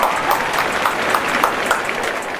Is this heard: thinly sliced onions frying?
no